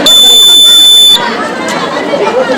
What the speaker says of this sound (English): First, here is a fire alarm.